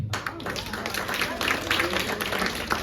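Comedy club audience clapping for a few seconds, a dense, even patter of hands at moderate distance, with no voices standing out above it.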